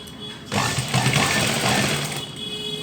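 A sewing machine stitches a lined women's shirt in a steady rapid whir for about two seconds, starting abruptly and stopping, close and moderately loud with no talking over it.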